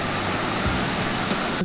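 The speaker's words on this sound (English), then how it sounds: "it didn't take us long to find another waterfall" Waterfall in the green jungle at the Palenque Mayan ruins, a steady, loud, broadband roar of falling water that fills the whole short stretch without a break.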